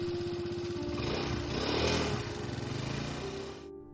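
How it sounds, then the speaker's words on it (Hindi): A motorbike engine runs steadily with a low, buzzing drone, swelling as it pulls away and fading before cutting off abruptly; no voices. "इतना कहकर वह बाइक स्टार्ट करता है और चला जाता है।"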